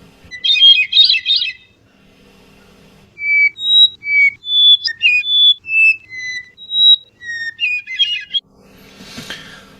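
Edited hermit thrush song keeps only the opening notes: a series of clear, pure whistled tones at shifting pitches in a steady rhythm, framed by brief chirpy bursts, with no voices.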